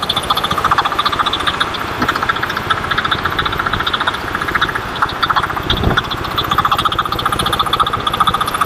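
A VIS 2500 machine's engine runs at a steady idle, a loud, close, rhythmic chugging rumble that pulses evenly for the whole stretch with a slight mechanical whine above it.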